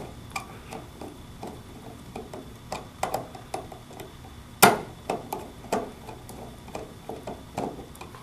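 Small screws being tightened into a motor control terminal block on a Minarik MC10 drive, a quiet run of light clicks and ticks at irregular intervals, with one sharper metallic snap near the middle and no talking.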